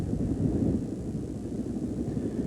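Distant emergency helicopters over a flooded, deserted Northern California town in February 1986, a steady low rotor and engine rumble that stays faint and continuous without any voices.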